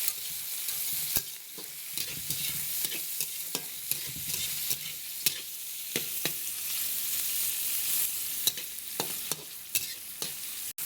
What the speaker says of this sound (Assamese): এতিয়া আকৌ হিলাই দিম